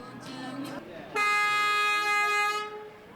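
Vehicle horns honking in a parking lot at a Touch a Truck event: a loud, sustained, steady horn blast of about a second and a half follows a moment of talk and background noise.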